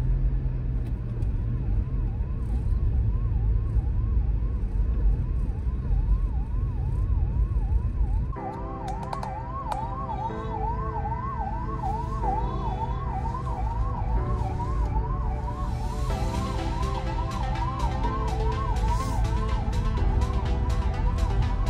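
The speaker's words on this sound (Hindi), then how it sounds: "एम्बुलेंस को रास्ता दें, बहुत जरूरी है।" An ambulance siren wails in rapid repeating sweeps over the rumble of jammed traffic on the Ambala–Chandigarh road, growing louder and more insistent partway through.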